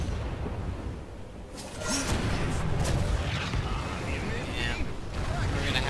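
Loud booming cannon blasts and rumbling impacts roll through a busy Heroes of the Storm battle, with whooshes and a voice talking over the din.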